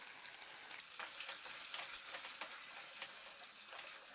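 Vegetable manchurian sizzles and fries steadily in a pan with soy sauce and vinegar, giving a continuous crackling hiss with occasional stirring scrapes, close and loud, with no talk.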